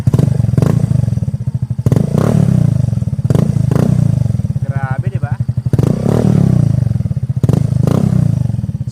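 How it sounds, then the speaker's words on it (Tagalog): A Yamaha Fazzio 125 scooter running with no silencer gives a loud, rough, pulsing engine putter with repeated sharp revs and thumps close by. "ito guys yung tunog niya kapag naka-idle without silencer yan mga boss."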